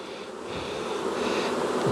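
Honey bees buzzing loudly after being shaken from a frame into a hive, a dense, steady hum that swells slightly, close up with no talk.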